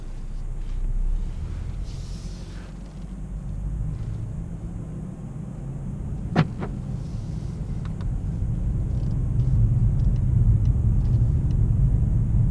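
A 2019 Mercedes-Benz CLS 350d 4MATIC coupé cruises along, its low diesel engine drone and road rumble steady inside the cabin, swelling slightly toward the end, with a single sharp click midway and no speech.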